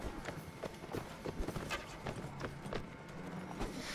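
Horse hooves clop in Mount & Blade: Warband, irregular close thuds at a trot over a busy battlefield background, with a faint whinny-like tone.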